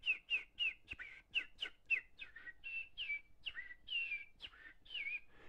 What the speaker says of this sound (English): There's a lot of birds.